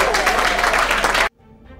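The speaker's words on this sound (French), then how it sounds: "Applaudissez encore pour vous." An audience at a startup weekend event in Bafoussam bursts into loud, dense applause that stops abruptly after about a second, leaving a faint room hush.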